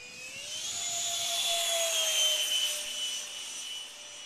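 An RC Nitroplanes 68mm electric ducted fan Alpha Jet flying aerobatics whines loudly overhead, its high-pitched turbine-like tone rising and sliding in pitch as it swells past and fades slightly.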